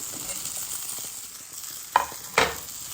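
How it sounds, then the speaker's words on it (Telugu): Pumpkin seeds drop into golden brown onions frying in a pan, giving a steady sizzle with two sharp bursts of crackle near the end as they hit the hot oil. "సో ఇప్పుడు దీంట్లో పంకిన్ సీడ్స్ వేసేస్తున్నా."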